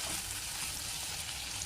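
Brinjal pieces sizzle steadily in a hot pan for a mixed vegetable curry with carrot and potato, a close, even crackle of frying while being stirred, and no talking.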